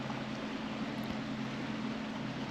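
Boat engine out on Lake Michigan near a harbor, a steady low droning hum that stays constant and moderately loud, with no talking.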